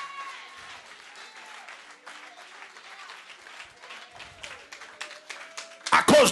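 A congregation in a church service applauds, a sustained patter of many hands building toward the end, with a voice over it.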